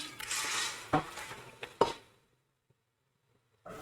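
Bone-in beef pieces drop into a metal cooking pot with a few clattering knocks and clinks. They fade into near silence, and a new sound starts right at the end.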